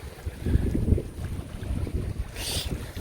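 Wind gusts across a seaside fishing spot at Namhae's Mijo, with low buffeting rumbles against the microphone and a faint hiss of water, steady and moderately loud with no voices.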